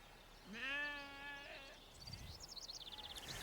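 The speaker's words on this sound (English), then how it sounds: "Bighorn sheep in their natural environment." A bighorn sheep on the American prairie gives a single quavering bleat, followed by faint high chirps and buzzing insects in a quiet outdoor setting.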